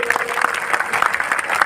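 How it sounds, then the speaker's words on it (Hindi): Clapping from a crowd at a Satnami devotional gathering in Chhattisgarh, a short uneven burst of many hands with a voice faintly audible underneath. "एक बार ताली बजाओ सब में कोई"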